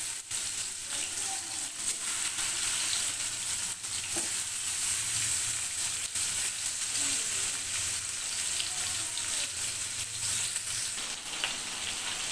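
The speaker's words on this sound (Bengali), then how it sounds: "এখন আমি ওই তেলেই মাছটা ভেজে নিব।" Katla fish frying in hot oil in a pan, a steady, loud, unbroken crackling sizzle that holds close for the whole stretch, with occasional faint knocks and no voices.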